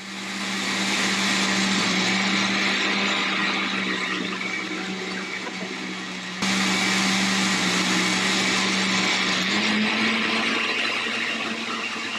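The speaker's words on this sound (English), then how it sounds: "Next thing we're gonna do is blend." An electric blender runs continuously while blending juice, giving a loud, steady motor whir with a brief dip and surge in pitch partway through, and no talking over it.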